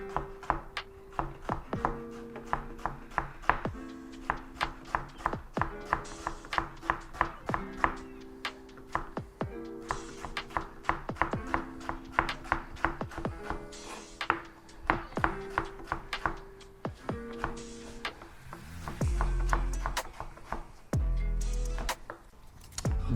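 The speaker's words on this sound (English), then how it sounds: "just start like chopping it." A knife chops tomato on a cutting board for tabouleh salad, rapid, rhythmic taps repeating steadily for over twenty seconds, close and crisp, with a few pauses and a low thud near the end.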